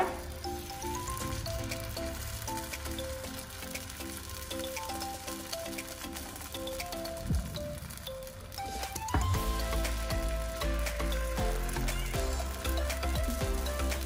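Jackfruit paniyaram batter sizzles steadily in a hot appam pan over a low flame, a continuous frying hiss that runs under background music throughout.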